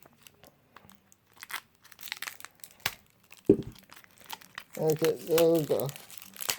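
Tape being torn and crinkled off a tightly sealed package, with rustling and crackling bursts, close and fairly loud, mixed with a man's speech and exclamations.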